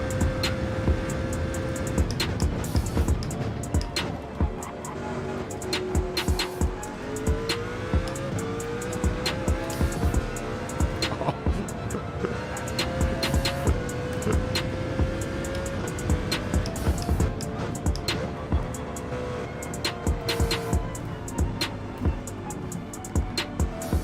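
A CLK race car in Gran Turismo 7, a loud continuous engine roar shifting up and down through the gears with steady revving and tire noise, close and without talk.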